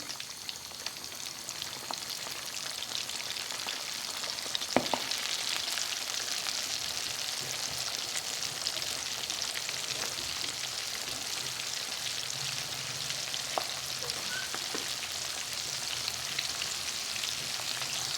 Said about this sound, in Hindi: ऑयल गर्म हो चुका है, अब मैं इसके अंदर मछली डाल दी जाऊँगी